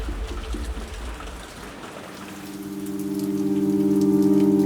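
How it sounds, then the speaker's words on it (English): Steady rain falls on a game-show set with a snake-tank challenge, a broad even hiss that swells slightly toward the end while a sustained low tonal hum enters partway through; no one speaks. "if this rain's even real, I don't know what's real"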